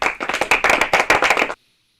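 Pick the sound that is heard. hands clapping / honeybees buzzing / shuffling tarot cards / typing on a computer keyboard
hands clapping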